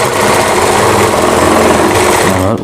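A sewing machine runs steadily while stitching a kanchli blouse, a loud continuous whirring drone that holds for the whole stretch with no voices over it.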